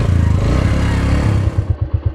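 A motorcycle engine labouring up a steep, rough jeep track in the Neelum Valley, loud and close with a heavy low drone that breaks into uneven, chugging pulses as it struggles near the end.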